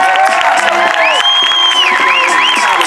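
A concert crowd at a memorial show in Los Angeles cheers, whoops and shouts loudly, with rising whistles and yells over a dense roar of voices, close and continuous.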